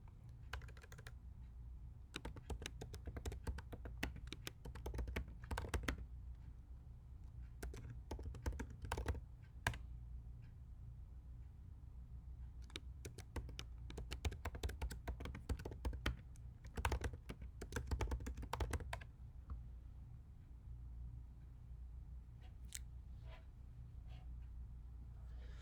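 Steady bursts of keystrokes on a computer keyboard as code is typed at a terminal, close and clear with short pauses between runs of clicks.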